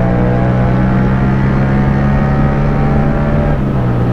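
Yamaha MT-07 motorcycle engine droning loud and steady at high revs, a continuous close roar with wind, no voices.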